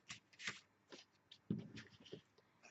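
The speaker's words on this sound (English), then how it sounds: "Let's move our paper out" Sheets of paper slide and shift across a work surface while a handmade journal is assembled, giving soft, close rustles and dry scuffs in irregular bursts with one firmer thump midway, quiet and without talk.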